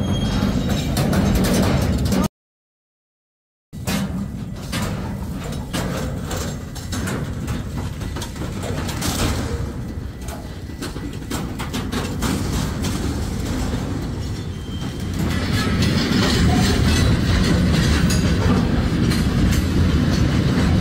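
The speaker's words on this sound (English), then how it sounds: "Freight train derailed in Franklin Park, Illinois, in the Chicago area" A freight train that derailed in Franklin Park, Illinois, rumbles past close by, heavy wheels clattering and rattling continuously with a brief cut in the middle.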